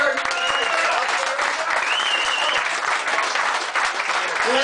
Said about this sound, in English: Round of applause for Terry Taggart